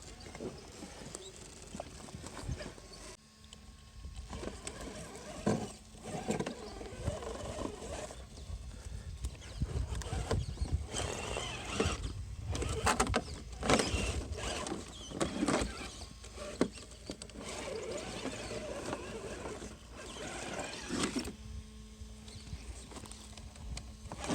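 A Traxxas TRX4 Sport RC crawler driving over rocks outdoors: continuous close clattering and knocking of tires and chassis on stone, with a faint whining motor tone rising and falling throughout.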